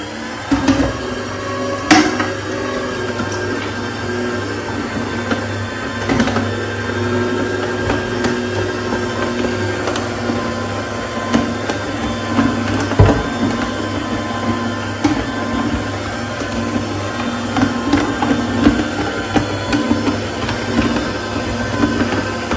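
A juicer machine running with starfruit and mango inside, holding a steady loud motor drone with a low hum and busy grinding texture for the whole stretch, plus a few sharp knocks, and no voices.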